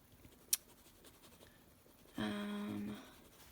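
A quiet scratch of a wax-based colored pencil on paper, a brief tap followed by a short stroke of coloring, close and soft, with no talking.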